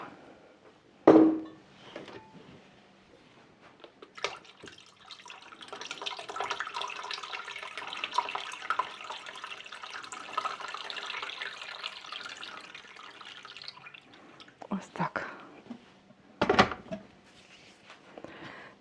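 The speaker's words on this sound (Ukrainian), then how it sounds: "Заливаю повністю так, практично до верху самого" Cold water runs steadily into a cooking pot for about ten seconds, filling it nearly to the top, bracketed by a few sharp knocks and clunks of the lid or pot.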